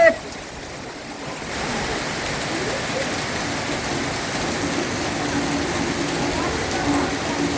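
A tropical rainstorm in a street in Culion, Philippines, gives a steady rushing wash of rain and running water, after a short bump at the start, with faint voices in the background.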